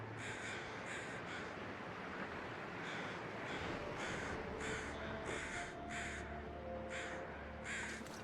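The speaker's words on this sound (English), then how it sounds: "Where are these crows over here?" Several crows caw repeatedly in The Long Dark survival game, harsh calls coming in regular bursts over a steady wind-like ambient hum, moderately distant.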